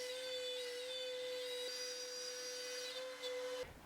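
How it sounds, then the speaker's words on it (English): A CNC router cuts a sheet of material with a steady high whine and constant spindle tone, close and alone, ending with a brief change as the cut finishes. "Then I make the necessary cuts to one side."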